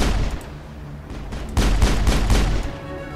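Pistol fire in the Mass Effect video game: a rapid run of loud, close shots with booming impacts under a continuous game soundscape, the volley bunched in the latter half.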